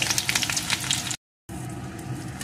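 Chopped onion hitting hot oil seasoned with black cumin, a steady close sizzle and crackle of frying for okra in mustard, broken by a short silent gap before the frying hiss resumes more evenly.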